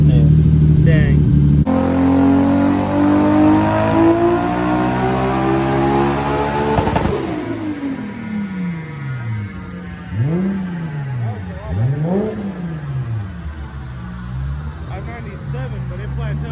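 Toyota Supra engine revving hard and climbing steeply to its rev limiter, then dropping off into a series of loud throttle blips rising and falling, with people talking nearby.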